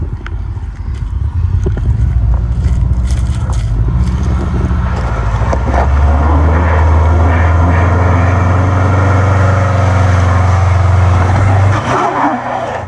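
A Subaru Forester XT climbs a rocky offroad track at Cobaw, its engine droning loudly and steadily under load for most of the run before easing off near the end, with tyres scrabbling over rock.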